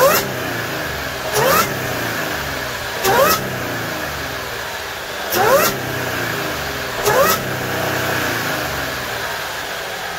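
A 2013 Audi A6 supercharged V6 fitted with an ECS Tuning intake revs four times in evenly spaced blips over a steady idle, loud and close, with no voices.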